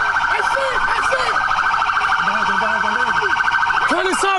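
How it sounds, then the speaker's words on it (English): Police car siren during a deadly car chase, a loud continuous wailing and yelping siren, close by, with shouting voices under it. "Turn the sirens off!"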